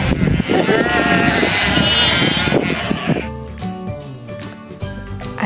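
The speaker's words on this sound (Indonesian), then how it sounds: "Domba." Sheep bleat loudly in a dense, overlapping chorus, then a few separate wavering calls stand out as the flock thins.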